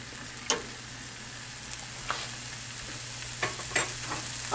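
Philly cheesesteak meat cooking in a pan at home, a low, steady sizzle close by with a few sharp clicks and scrapes from a utensil, no talking.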